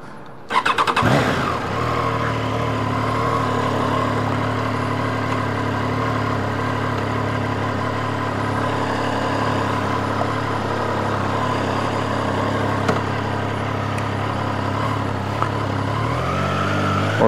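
A 2022 Triumph Tiger Sport 660 motorcycle starts up and holds a steady engine drone, near and loud throughout, with a brief rise in pitch near the end as it shifts gear.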